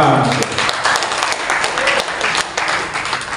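An audience applauding at an organisational gathering in Indonesia, a sustained wash of many hands clapping together at fairly close range, holding steady for several seconds with voices and cheers mixed in.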